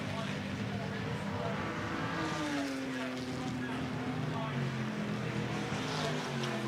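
Racing cars including a white Cobra and an E-Type run on a circuit, engines droning and shifting pitch as they pass at a distance, with a commentator's voice over the top.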